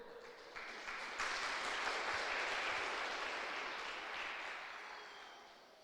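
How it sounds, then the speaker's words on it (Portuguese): A church congregation breaks into sustained applause that swells, holds steady for several seconds, then slowly eases off, a dense wash of many hands with no clear speech. "aplauda ao Senhor"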